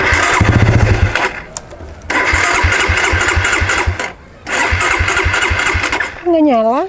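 A Suzuki Satria FU motorcycle engine cranks and catches in several loud, close bursts separated by short silences, as if struggling to start, with people talking over it.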